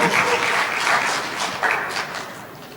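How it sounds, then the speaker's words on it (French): Sustained audience applause at an end-of-year graduation ceremony for foreign students in Bejaia, honouring a mechanical engineering professor: a dense, loud wash of many hands clapping throughout, with no voices standing out. "Applaudissez pour lui, s'il vous plaît."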